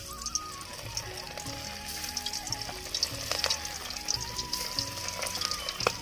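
Fish frying in smoking-hot oil in a village kitchen, a soft continuous sizzle and crackle with faint pops and clinks, fairly quiet and close.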